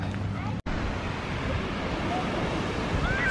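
Surf rolling onto the Lake Michigan shore at Sheboygan, Wisconsin, a continuous broad wash of waves with wind buffeting the microphone and a brief dropout early on.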